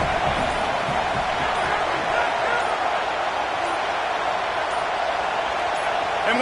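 A loud stadium crowd roars continuously and densely throughout at an Indiana University versus Georgia college football game, rising as a false start is forced on fourth down, with no pauses in the sustained noise.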